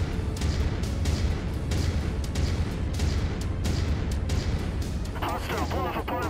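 MechWarrior 5: Mercenaries combat with mech weapons and turrets firing nonstop, a dense, heavy barrage of booms and shots, loud throughout, with a voice speaking near the end.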